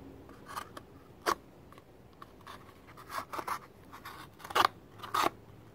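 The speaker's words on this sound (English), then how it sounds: "I'll just cut the box" A fake Spyderco Para2 knife slicing through a cardboard box gives a handful of short, dry scratching cuts, scattered and fairly quiet, with two sharper strokes near the end.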